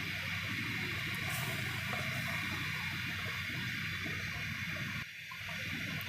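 Sugar syrup with milk added boils in a pot, a steady dense hiss and bubbling that runs evenly throughout with a brief dip near the end.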